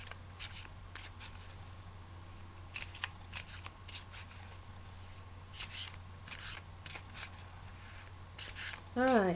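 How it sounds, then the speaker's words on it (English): Soft papery riffling and snapping of tarot cards being shuffled, repeated in short bursts against a steady low hum, with a brief voice at the very end. "Alright, big shuffle."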